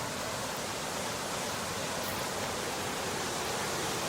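Water rushing at Jackson Lake Dam, a loud, steady broadband roar that continues unbroken without any voices.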